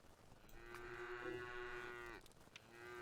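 Cattle mooing in the Craftopia video game, a long drawn-out low moo with a steady harmonic tone that rises and holds for about two seconds, followed by shorter fainter sounds, with no talking.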